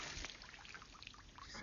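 Hot water poured from a bucket, a steady close splashing and trickling pour filling the short moment without any voices.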